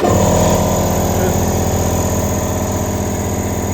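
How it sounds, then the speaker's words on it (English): An air compressor running steadily beside a workbench, a loud, close, even motor drone with a faint rhythmic pulsing throughout. "I didn't have my compressor switched on"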